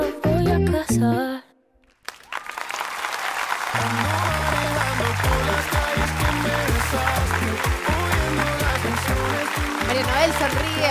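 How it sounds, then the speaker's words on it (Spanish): Applause from a judging panel and audience after a contemporary bachata dance audition on a televised talent show, with a short hush and then sustained clapping beneath loud backing music and voices. "Noel sonríe, aplaude."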